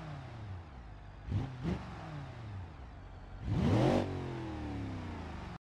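Simulated car engine in the driving game BeamNG.Drive revs twice in short bursts, then surges into one louder, longer rev before settling to a steady idle, with no talking.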